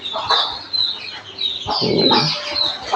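A restless young hen clucks close by in a few quick, agitated bursts, with sharp chirping calls over a low, muffled background.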